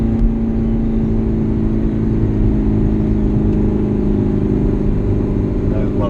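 A deep, steady Ferrari California engine rumble heard from inside the car, holding a constant low note with a faint whir on top.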